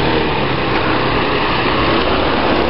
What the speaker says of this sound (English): See that delivery motorcycle?